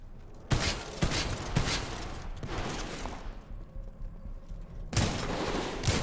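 Big explosions and heavy gunfire in the video game Titanfall 2, loud booming bursts with rumbling tails, a fresh blast near the end, no voices over them.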